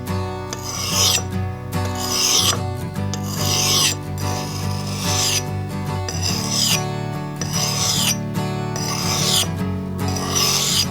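A hatchet edge is sharpened on an oiled Arkansas oilstone with repeated rhythmic rasping strokes, about seven close, loud scrapes with brief gaps between them.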